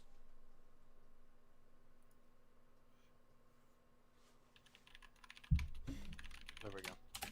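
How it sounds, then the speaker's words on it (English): Rapid clicking keystrokes on a loud computer keyboard run quietly and steadily, then a sudden louder clatter and bumps close to the microphone near the end. "My keyboard's really loud."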